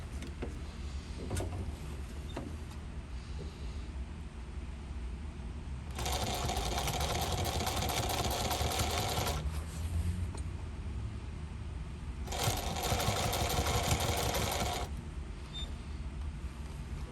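Sewing machine stitching a hook and loop reserve ripcord handle, two loud, fast whirring runs of about three seconds each, with quieter handling noises and pauses around them.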